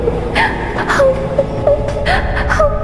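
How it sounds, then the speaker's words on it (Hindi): A woman's wavering, moaning cry rises and falls in several short sobbing phrases, close and fairly loud, used as an eerie effect in a haunted-station horror cartoon. "तभी अजीत को एक औरत के रोने की आवाज आने लगती है।"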